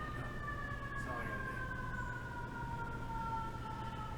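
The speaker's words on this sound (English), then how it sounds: "Sirens." An emergency vehicle siren wails in the distance, two faint falling tones sliding steadily over a low background hum, quiet and far off with no talk over it.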